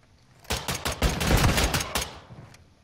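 Rapid bursts of automatic gunfire from an LM-S rifle in Call of Duty Modern Warfare II, in a 10v10 Domination match on the Congress Spa map. The shots are loud and close, with a dense central volley and short gaps between bursts.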